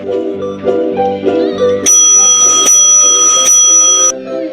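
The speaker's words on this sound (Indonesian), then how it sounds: "Bel tanda istirahat pun berbunyi." A school bell marks break time with a bright, loud electronic chime: a short melodic tune, then three sustained high ringing tones filling the room.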